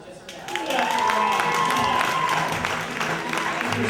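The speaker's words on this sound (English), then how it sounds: "You should get a round of applause just for that" Audience applause and some cheering at a comedy improv show, a steady wash of clapping that swells after the first half second and holds, with voices mixed in.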